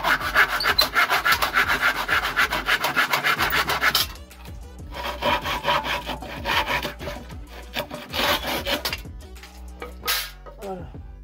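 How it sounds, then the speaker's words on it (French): A hand saw rasps through driftwood in fast, rhythmic strokes, pausing briefly, then resuming with uneven, slower pulls, close and loud. "Et je vais attaquer le découpage à la scie."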